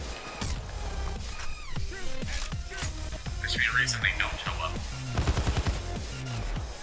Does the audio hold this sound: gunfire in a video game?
yes